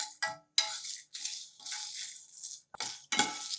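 Coriander seeds and dried red chilies dry roasting on a griddle, with dry scraping and rattling strokes in short bursts and a light crackle between pauses.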